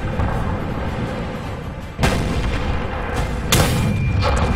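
A loud M46 Patton tank gun booms twice in a video game battle, two sharp heavy blasts about one and a half seconds apart over a constant rumbling engine and battlefield noise.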